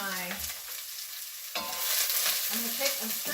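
Chopped onion hitting a very hot Dutch oven, with a sharp sizzle that cuts out briefly and returns as a steady frying hiss with stirring scrapes, close up and without talk.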